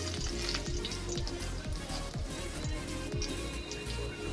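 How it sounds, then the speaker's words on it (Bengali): A bay leaf and two dried red chillies sizzle steadily in hot oil for a vegetarian papaya dalna curry, a close, continuous frying crackle with no voices. "ওই তেলের মধ্যে আমি দিয়ে দিলাম একটা তেজপাতা, দুটো শুকনো লঙ্কা"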